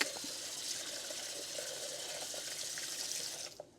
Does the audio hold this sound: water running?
yes